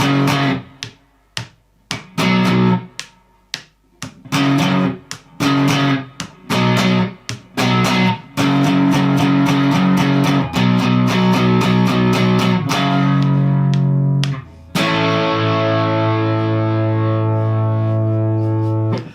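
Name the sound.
electric guitar playing a song's first chorus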